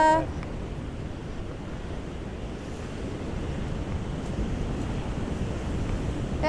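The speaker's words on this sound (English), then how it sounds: "Back at the van after a very blowy, windy, cold walk." Strong, cold wind buffets the microphone in a constant rumbling roar beside a parked van, with surf washing steadily in the background near the shore.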